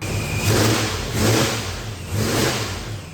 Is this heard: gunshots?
no